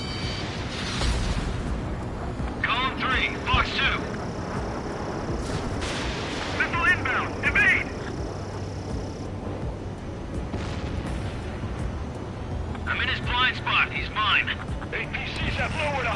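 Ace Combat 7 air combat: a continuous roar of jet engines and booming fire under radio chatter, with repeated bursts of rapid gunfire and warning tones rising above the din.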